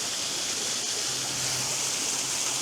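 Steady rushing water from a small waterfall hidden in the woods, a continuous broadband hiss with no breaks, moderately close and even in level throughout.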